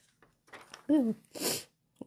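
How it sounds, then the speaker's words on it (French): A single sneeze: a short voiced intake building to a sharp, breathy burst, close and loud, followed by quiet. "Là, j'ai envie d'éternuer."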